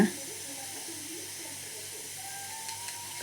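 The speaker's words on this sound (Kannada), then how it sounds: "ಈಗ ಬ್ಯಾಡಗಿ ಮೆಣಸು ಸ್ವಲ್ಪ ಫ್ರೈ ಆಗ್ತಾ ಉಂಟು." Byadgi chillies frying in coconut oil in a village kitchen pan, a soft steady hiss throughout, fairly quiet with faint background clatter.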